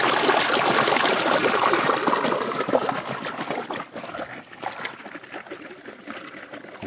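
Water runs loudly into an irrigation channel feeding napier grass on a farm, a steady close rushing trickle that eases and grows quieter partway through, with no talk.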